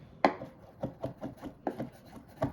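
A kitchen knife chops finely on a cutting board for a wedge salad, a quick run of about nine crisp, close taps at an uneven but steady rhythm, with no talking.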